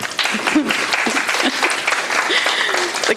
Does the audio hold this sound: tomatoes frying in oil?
no